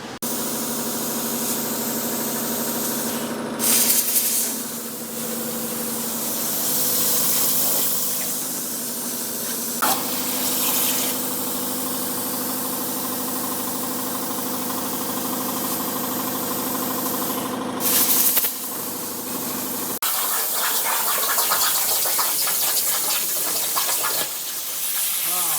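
A CNC plasma table cuts metal with a steady, loud hiss and hum that runs for long stretches, broken by brief changes in tone and a few short pauses and bursts.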